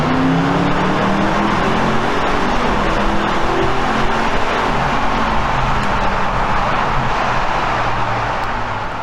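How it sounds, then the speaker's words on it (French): A BMW M850i Cabriolet's V8 engine roars continuously and loudly, a dense, throaty drone from a moving car that stays powerful with slight shifts in pitch throughout. "ce son, cette mélodie du V8 est tout simplement envoûtante"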